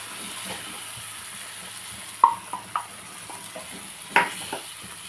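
Sesame paste curry cooks in a pan with a low steady sizzle and bubbling, broken by a few sharp clinks of a utensil against the pan.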